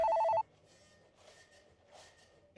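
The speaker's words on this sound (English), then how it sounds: "But the phone next to your computer starts ringing." A telephone beside a computer gives one short, loud electronic ring at the very start, then cuts off, leaving only faint low background noise.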